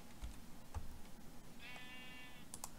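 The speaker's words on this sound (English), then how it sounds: "I hear you, sheep, I hear you." A sheep in the Minecraft video game bleats once, a wavering harmonic cry heard clearly but not loudly over quiet background noise, with a few soft clicks from the game around it.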